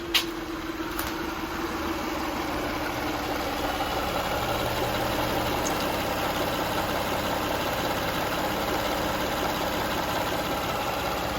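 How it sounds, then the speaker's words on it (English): A 2004 Lexus RX 330 with 166,000 miles starts, then its engine settles into a steady, smooth idle, heard up close with a continuous even hum and no talk. "So I'm gonna start up the vehicle so"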